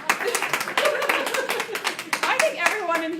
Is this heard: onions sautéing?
no